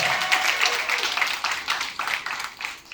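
Comedy club audience at Denver Comedy Underground, in a church basement, claps steadily throughout, a dense patter of many hands filling the room with no speech over it.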